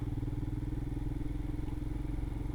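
A Royal Enfield Himalayan motorcycle on a trail ride: a steady, close single-cylinder engine thump with rhythmic pulsing throughout, plus faint clatter.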